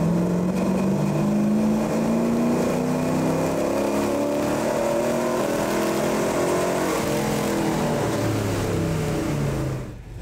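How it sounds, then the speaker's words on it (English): A 1965 wagon's engine, upgraded with multi-point EFI, revs steadily on a dyno, its loud continuous roar climbing in pitch and holding high before cutting off abruptly at the end, with no voices. "once we get everything set, we'll strap it to the dyno jet and see what kind of power we're making."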